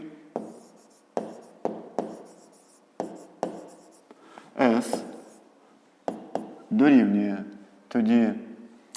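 A pen or chalk writes out a fifth-grade math equation in a series of short, sharp scratching strokes, spaced and rhythmic, alternating with a teacher speaking in between.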